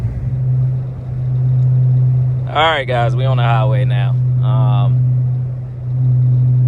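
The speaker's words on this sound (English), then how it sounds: "This car is extremely droney. That's another thing when you go catless. The drone is crazy." A Dodge Charger Hellcat widebody with a catless AWE track exhaust droning at highway speed, a steady, loud low hum that holds constant throughout while someone speaks briefly in the middle.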